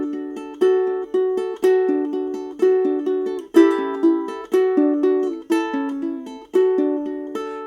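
Ukulele fingerpicked claw-style, thumb on strings 4 and 3 with the first and middle fingers on strings 2 and 1, repeating a steady plucked pattern of bright, ringing notes, close and clear with no talking.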